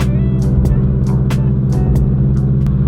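A supercharged Subaru BRZ drives along with a steady, droning engine and exhaust note, close and continuous, broken by a few brief sharp ticks and clicks.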